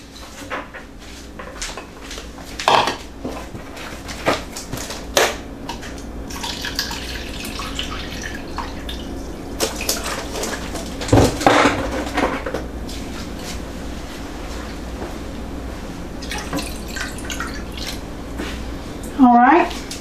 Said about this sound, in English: Then I'm going to get 2 cups of water.